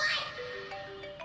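An incoming call rings on a mobile phone in a Hindi comedy film scene, a short electronic melody of steady stepping tones playing clearly with no voices over it.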